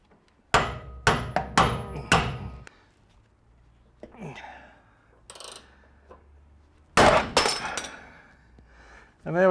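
Mechanical work on a Pitman arm nut of an RA28 Celica Fastback steering linkage with a gear puller: a quick series of sharp metallic clanks, then scattered quieter clicks and scrapes, and a loud burst near the end, all close by.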